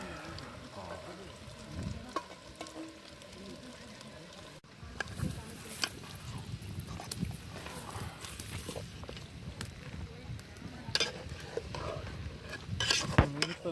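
Lamb goes into a pan of nearly finished onions, bringing a close, crackling sizzle with scraping and stirring knocks that grows livelier after an abrupt jump in level midway.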